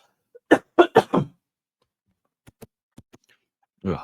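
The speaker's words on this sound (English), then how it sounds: "I'll just clear my throat one more time." A person clears their throat in a few quick, harsh bursts, then falls quiet apart from faint small sounds, with another rough clearing starting at the end.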